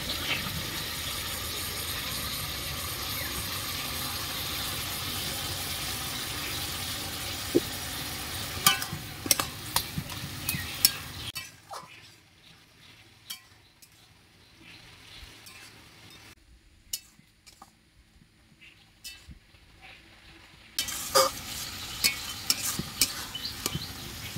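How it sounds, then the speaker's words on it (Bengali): Snake gourd cooking with grated ginger, cumin, coriander and chilli powders, frying and being stirred with a utensil in a pan; steady sizzle with scraping strokes, dropping away to near quiet midway before the frying and stirring return. "মশলাটা দেওয়ার পর ভালো করে কষিয়ে নিয়েছি"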